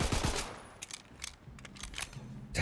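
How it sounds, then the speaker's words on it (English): Bursts of fire from a hard-to-control gun in the looter shooter Tiny Tina's Wonderlands, with loud shots at the start and end and scattered quicker cracks between, fairly close. "it's a hard gun to control, man"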